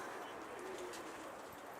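Pigeons cooing around a loft landing ramp in wind, a continuous busy chorus of soft coos and calls, fairly faint and steady with no speech.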